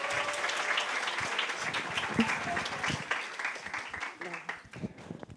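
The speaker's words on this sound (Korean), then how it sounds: "뜨거운 큰 박수 부탁드리겠습니다" Warm, sustained applause from a seminar audience, a steady dense clatter of many hands that slowly thins toward the end, with faint voices beneath.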